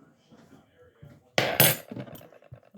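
A spoon scoops seeds out of a cantaloupe or watermelon: faint soft scraping and rustling at first, then a louder wet scrape with a clink near the middle, then more quiet scraping.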